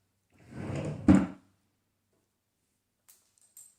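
A wooden-sounding drawer slides along its runners, then shuts with a single firm thunk nearby, followed by silence and a couple of faint, distant ticks.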